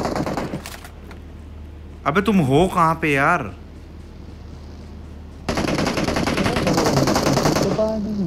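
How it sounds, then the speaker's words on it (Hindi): Gunfire in the video game PUBG on the Livik map, with a brief burst of rapid shots followed later by a longer sustained volley, and players talking between and over the shots. "किस किस पे गोलियां चला रहे हैं ये भाई?"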